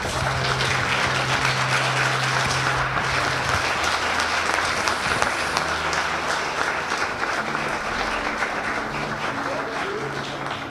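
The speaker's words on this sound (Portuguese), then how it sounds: "Dê para ele uma linda salva de palmas bem forte." Steady, loud applause from a church congregation fills the whole stretch, a dense wash of clapping that never lets up.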